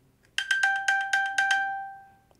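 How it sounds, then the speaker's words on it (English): An iPhone pings after being triggered from an Apple Watch: a quick run of about six bright chime pulses with a ringing tone that fades out, clear and alone. "If you press it once, it's just going to ping with a sound."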